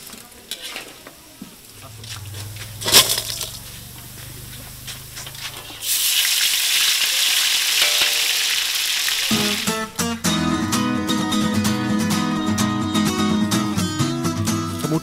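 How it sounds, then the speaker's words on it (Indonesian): Ground spice paste for skipjack tuna floss sizzles and fries in a pan while being stirred, first softly and then in a loud, steady hiss, with clinks of a utensil against the pan and music joining later. "bumbu halus ditumis hingga matang"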